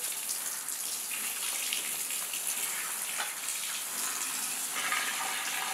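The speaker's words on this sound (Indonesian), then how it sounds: "Biar airnya banyak dulu, airnya hangat guys." Warm, sun-heated water runs steadily into a tub being filled for hand-washing clothes at home, a continuous close splashing gush with no pauses and no voices.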